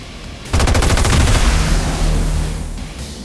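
Loud, rapid automatic gunfire in a video game, a dense burst of shots opening half a second in and rattling on without a break until it fades at the end.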